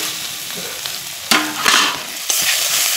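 Potatoes that were fried earlier drop into hot, well-cooked spice masala for a fish curry, setting off a loud hiss and sizzle. Stirring and scraping follow, with bursts of sizzling as the pan is stirred.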